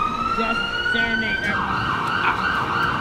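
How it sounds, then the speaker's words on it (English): Ambulance siren wailing in a game scene, a rising and falling electronic tone that holds steady then shifts into a faster warble, moderately loud with a brief spoken word over it. "That's the ambulance."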